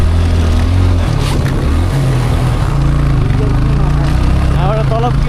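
A motorbike engine runs steadily on a rough mountain road, its loud continuous drone rising and falling with throttle changes, along with wind and road noise throughout and a brief higher-pitched whine near the end.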